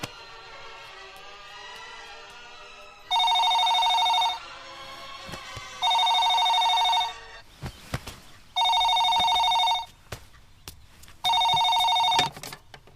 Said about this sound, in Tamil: செல்போன்ல கூப்பிட்டே இருந்தேன், ஏன் எடுக்கல?